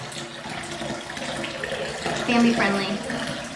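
Liquid pours steadily into a container while making spiced cranberry apple cider, a continuous rushing splash under people talking, rising a little toward the end.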